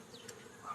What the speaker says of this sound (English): This all are nursing bees.